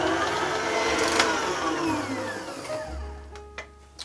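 A blender or food processor whirs steadily through a cheesecake crust mixture, loud and close, then winds down near the end.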